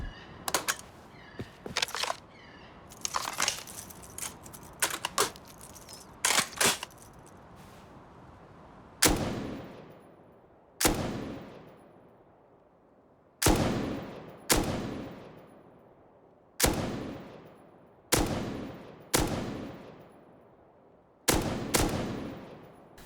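An M249 machine gun loaded with standard ammo fires in the video game Rust, first in short rapid bursts, then as a series of single, sharp, evenly spaced shots with decaying echoes.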